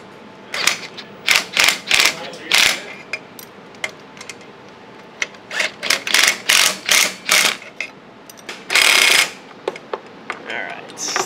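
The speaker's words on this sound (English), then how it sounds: "we'll go back with a ratchet and just tighten them up, make sure they're all good and tight." Hand ratchet tightening catalytic converter bolts on a VW MK4 R32 during a high-flow cat install, heard as bursts of rapid metallic clicking strokes with short pauses, close and clear, no talking.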